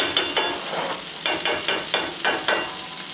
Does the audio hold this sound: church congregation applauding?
no